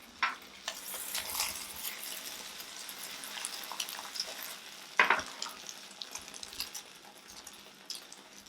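Eggs for japchae fry in a tilted pan, a continuous close sizzle with soft stirring scrapes and one sharper clank of utensil on pan partway through.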